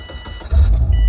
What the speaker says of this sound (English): then start the car